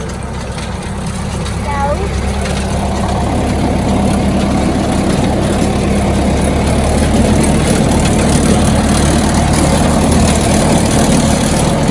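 A tractor engine chugs steadily on a rough village road, a loud continuous low drone with rattling, while people talk over it throughout.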